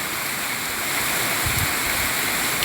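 Heavy rain pours over the backcountry near Martinópole, Ceará, in Brazil on a late morning, a steady, loud, dense roar of falling water that holds constant throughout with no voices.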